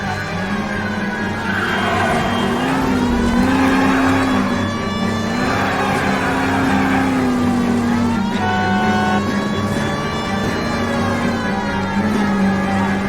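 A car chase in L.A. Noire, with a car engine droning and revving steadily, rising and falling in pitch, loud and continuous throughout.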